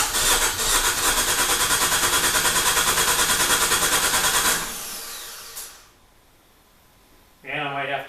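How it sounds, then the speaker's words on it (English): An Abarth engine swap cranking hard and loud, then catching and running briefly before dying away to near silence, with a short mechanical burst near the end. "we have it cranking. It sounds like an engine."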